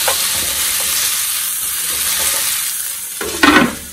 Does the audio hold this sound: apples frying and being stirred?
yes